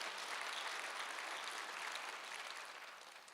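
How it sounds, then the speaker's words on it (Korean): A congregation at a Sunday worship service bursts into thick, dense applause that holds strong, then begins tapering off near the end. "여러분, 내가 멋진 목사님 만난 거면 지금 박수 쳐주세요."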